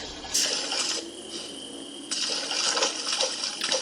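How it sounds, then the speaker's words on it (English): Running water in the Granny horror video game, a steady hiss of flowing water that holds throughout, with a brief splash at the start and a louder surge partway through. "Can she hear the water?"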